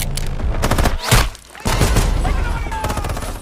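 Gunfire rains down in a movie scene, with dense rapid bursts of shots and heavy booms crowding together, a short lull, then more close, loud volleys.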